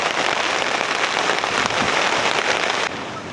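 Steady heavy rain hisses across surfaces as a storm approaches with wind, a dense continuous wash that holds throughout and drops to a softer level just before the end.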